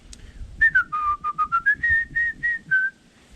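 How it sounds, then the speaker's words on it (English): Dixie musical air horn on a Ford Ranger, fed by a small air pump, plays a clear sequence of about ten whistle-like tones rising and falling, loud and close with short gaps between notes. "What this is a little teeny air pump that pushes out air to the musical horn"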